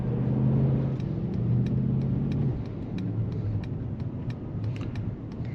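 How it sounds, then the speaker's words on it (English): The combustion engine of a Mercedes-AMG GT63 S E Performance hybrid cuts in under throttle, a low steady rumble pulling from inside the cabin, its tone dropping partway through, with faint ticking above. "Now the combustion engine switched on, where I gave it a little bit more throttle."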